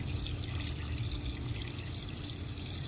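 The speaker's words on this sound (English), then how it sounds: "But what we're going to do is just pour it in here." Engine flush cleaning liquid is poured into a car's oil filler, making a steady, soft trickle close by with a faint splash, no talking.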